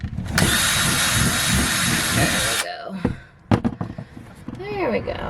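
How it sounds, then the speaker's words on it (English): A power drill fitted with a larger bit bores a hole for a solar panel mount, whining loudly and steadily for about two seconds before stopping, followed by clatter, handling noises and someone talking. "Okay, let's go ahead and drill."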